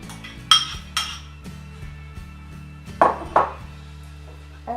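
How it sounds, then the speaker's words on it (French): Pasta with orange and asparagus being stirred in a pan, giving a few sharp utensil clinks and knocks against cookware over soft background music. "Enfin, on mélange tout, puis on dresse."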